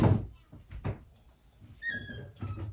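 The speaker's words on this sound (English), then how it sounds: "Let me shut the door." A bathroom door is shut indoors, with a few dull thunks and a latch click, followed by faint high whistling tones and light handling noise.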